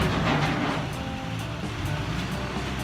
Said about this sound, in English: Must be the garbage truck.